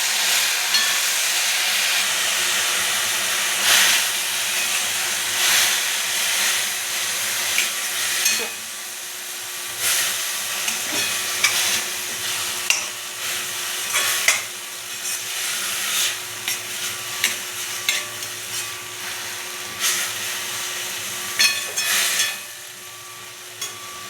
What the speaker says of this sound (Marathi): आणि छान असं परतून घ्यायचं.